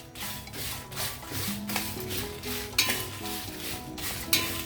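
Garlic cloves are dry-roasted without oil in a pan for a tomato and coriander chutney, giving a steady close scraping and stirring with a faint sizzle and occasional metallic taps.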